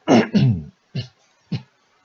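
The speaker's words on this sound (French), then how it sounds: "excusez-moi pour la toux" A close cluster of throaty allergy coughs: two heavy ones back to back, then two shorter, lighter coughs spaced apart.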